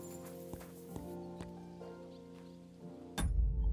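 A horse's hooves clip-clop in Kingdom Come Deliverance 2, with scattered, moderately loud hoof strikes over a steady tonal game ambience, ending in a sudden low rumble.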